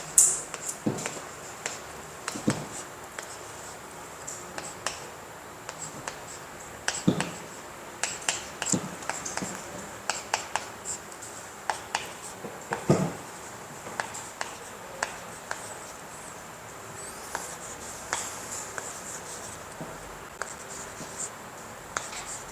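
Chalk or marker taps and strokes across a board as math is written out, a sparse run of sharp clicks and short scratchy swipes at an uneven pace, close and quiet, with no talking.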